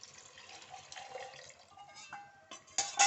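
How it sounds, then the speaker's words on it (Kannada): Rinse water from a mixer jar is poured into a Mangalore-style fish curry, a light, trickling splash that starts soft, shifts in pitch as the stream changes, then ends with a louder gush and splatter; no one speaks. "ನಾವು ಮಿಕ್ಸಿ ಜಾರ್ ತೊಳಿತೇವಲ್ವ, ಆ ನೀರನ್ನೇ ಸೇರಿಸೋಣ"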